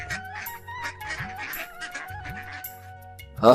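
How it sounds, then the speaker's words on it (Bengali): Cartoon ducks on a village pond quack in repeated short calls over steady musical tones, with a louder burst of noise at the very end. "আরে রমেশ ভাই, তুমি দেখি পুকুর ভরে হাঁস পুষতে শুরু করেছো।"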